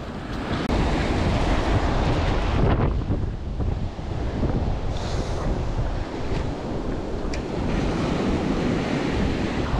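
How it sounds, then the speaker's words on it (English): Strong, freezing wind buffets the microphone over crashing surf on a beach at sunset during bass fishing, loud and continuous roaring with no voices. "it's freezing, absolutely freezing with that wind behind me"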